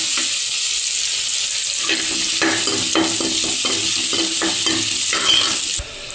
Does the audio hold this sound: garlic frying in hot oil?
yes